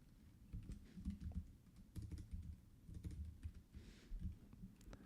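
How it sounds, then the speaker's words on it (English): Steady typing on a computer keyboard, with fast clustered keystrokes in bursts over several seconds, fairly quiet and close, with no talking. "here I want to type the name, so James."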